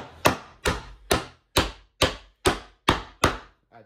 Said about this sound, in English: I like to take my hammer. Tap the chisel side to side to get it right where I need to get it.